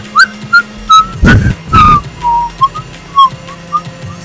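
A car's turbo in Gran Turismo whistles in a string of short, high tones, interrupted by a couple of louder rushing bursts.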